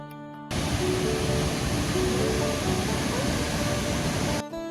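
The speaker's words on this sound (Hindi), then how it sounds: "हमें इसके बीच में देखने के लिए मिलता है ये सुंदर सा झरना।" Mountain waterfall beside the trekking trail to Madhmaheshwar in the Himalayas, a loud, steady, broadband rush of falling water close by that fills the whole moment without pause.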